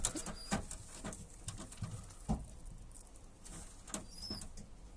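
Pigeons in a loft, including young birds, make soft low cooing and rustling with scattered taps and flutters of movement, irregular and close, against a quiet room.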